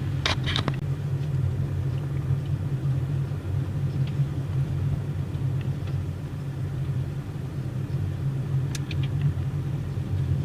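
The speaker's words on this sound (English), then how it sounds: "Driving on a back road in the Black Hills." A car drives a remote back road in South Dakota's Black Hills National Forest, giving a steady, close engine and tire rumble throughout, with a few faint clicks near the start and no talking.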